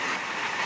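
Steady rushing rumble of a moving train at night, heard from inside, with no talking over it.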